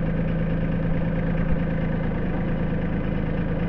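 A Mahindra 1526 compact tractor with a front end loader idles nearby, a steady, even low engine drone with a faint mechanical hum and no talking.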